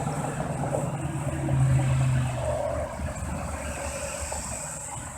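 A vehicle's engine rumbles steadily at a moderate distance, swelling slightly as it nears and then easing off, with a constant wind-like wash underneath and no voices.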